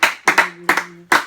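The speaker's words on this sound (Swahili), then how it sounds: "Acha tumpigie Bwana makofi mazuri." A few sharp, close hand claps from a church congregation clapping for the Lord land in an uneven rhythm, with a faint hum between them.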